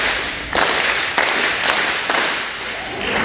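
School gym audience clapping in unison to imitate a snare drum, a series of sharp collective claps spaced about every half second to a second, loud and reverberant.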